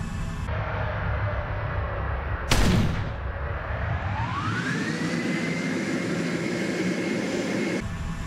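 Gunfire in War Thunder tank simulator battle: a single loud blast-like burst near the start, followed by a sustained engine or aircraft roar with rising pitch, no speech.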